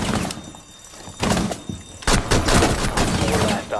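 Video game gunfire crackles in bursts of sharp shots, with heavy thunks and a brief lull before a denser volley, while excited players talk over it.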